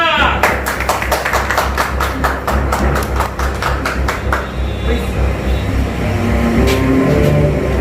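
An audience at a Punjabi stage play about Sardar Udham Singh claps loudly in a dense burst that thins out after about four seconds, leaving a murmuring hall.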